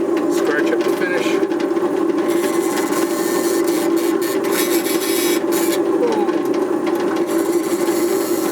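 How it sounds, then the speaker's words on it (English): A power drill whirs steadily and loudly up close, its motor pitch holding as it bites into a mahogany Les Paul Junior kit guitar body, with a brief voice underneath. "actually use a depth stop so I don't drill past where I want to drill"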